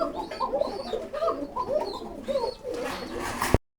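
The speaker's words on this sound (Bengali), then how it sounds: "সব রকমের কবুতর আছে আপনাদের" Pigeons coo at a farm, with repeated soft, throaty coos close by, overlapping in an irregular rhythm, ending with a short handling bump.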